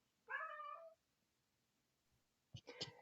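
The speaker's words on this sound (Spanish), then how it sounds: "Es mi gato que hizo ser parte de la presentación, disculpen." Rapid typing on a computer keyboard, close and fairly loud: one short burst of keystrokes, a pause of silence, then a dense, uneven run of clicking keys, with no voices.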